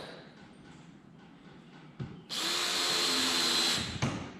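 Power drill driving triple coated self-tapping decking screws into wood while building a Warre honey bee swarm trap: a few soft knocks, then a loud whirring burst of about two seconds, ending in a thunk.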